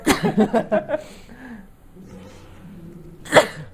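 A single sharp sneeze bursts out near the end, close and loud, following a few seconds of quiet chatter and breathy vocal sounds.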